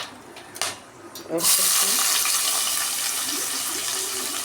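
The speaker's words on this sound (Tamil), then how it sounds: "இப்போ வந்து தாளிச்சிடலாம் ரெண்டு பட்டை ஒரு நாலு அஞ்சு கிராம்பு ஒரு நாலு ஏலக்காய்" Whole spices, cinnamon sticks, cloves and cardamom, hit hot ghee for ghee rice and erupt into a loud, steady close sizzle that continues without letup.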